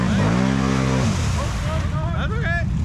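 A Can-Am Renegade ATV with a QSC RevX primary clutch and mud tires revs hard for about a second as it pushes through a mud trench, then the engine fades under a voice.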